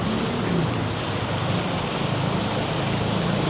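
Rain falling during a road trip from Jakarta to Surabaya in heavy long-weekend traffic, a dense steady hiss of drops drumming on surfaces close by, continuous and even throughout with no voices.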